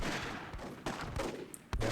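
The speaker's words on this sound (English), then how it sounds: "Got some gunfire here." In the WWII mod of Myth II Soulblighter, gunfire crackles in quick bursts of sharp shots, with a few louder reports standing out over the steady battle noise.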